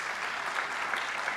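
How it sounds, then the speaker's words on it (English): A gathering applauds blood donors after 21 pints were donated, including nine first-time donors. The clapping is a brief, steady wash from a crowd, even in level, with no voices over it. "Please clap for that."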